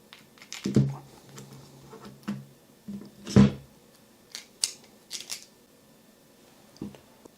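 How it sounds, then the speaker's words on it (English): Screws being backed out of the rear body mount of a Traxxas Slash RC truck, heard as a scattered run of small, close clicks and scrapes with quiet gaps between them and no talk. "you'll remove the rear body mount by removing these 4 screws"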